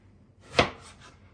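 A knife slices through a red onion in one quick, crisp cut with a sharp snap at its center, followed by softer trailing scrapes in a quiet kitchen.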